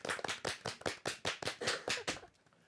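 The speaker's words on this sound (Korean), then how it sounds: "박수." A class claps for a few seconds, the applause sounding like quick, sharp, fairly uniform bursts in an indoor room before fading out.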